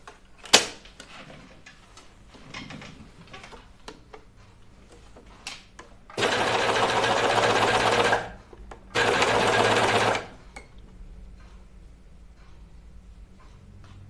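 A serger overlocks the hem of a toaster sweater in two loud sustained bursts of roughly two seconds each, separated by a short pause, with quieter handling clicks and movement before and after.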